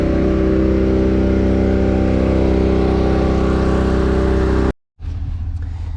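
A farm tractor's engine idles steadily at a fuelling stop beside a manure lagoon, a loud, constant droning hum that cuts out abruptly near the end before faint background noise returns.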